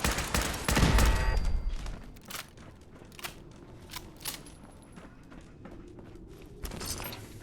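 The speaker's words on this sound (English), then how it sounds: "I think it's a turret, ain't it?" Turret gunfire in Fallout 4: a loud opening burst of rapid shots, followed by scattered sharp cracks and clicks spaced irregularly over a quieter, rumbling background.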